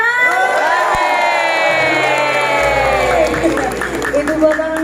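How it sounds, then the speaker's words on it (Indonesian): A large crowd at an angklung and wayang golek venue in Bandung cheers, whoops and shouts loudly, with children's voices mixed in and scattered clapping, the roar sustained throughout. "boleh saya dengar tepuk tangan beserta teriakan yang paling meriah ya"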